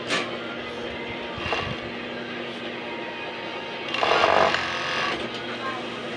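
Sewing machine with an edging blade running a test stitch, a steady mechanical whir with a louder burst of rapid stitching and cutting partway through, people talking over it.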